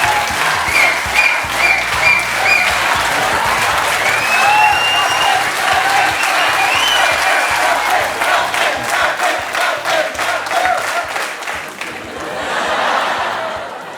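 Studio audience at a special Aap Ki Adalat show featuring Kapil Sharma breaking into loud, sustained applause with scattered cheers and laughter, continuous and close for the whole stretch.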